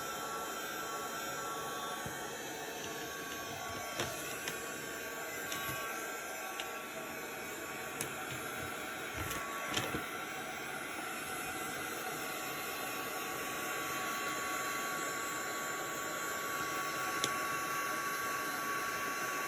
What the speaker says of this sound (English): So many fun things and helpful things you can do with your heat gun.